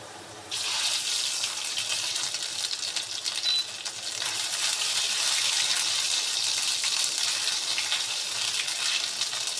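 Ginger frying and browning in a pan. A loud, steady hissing sizzle starts abruptly after a moment and holds continuously to the end.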